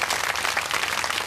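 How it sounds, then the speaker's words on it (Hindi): An audience at a Bhagwat saptah gathering in Tughlakabad, Delhi, claps loudly for the Brahmins, a dense, continuous burst of applause. "अब इनके लिए भी जोरदार ताली बजा"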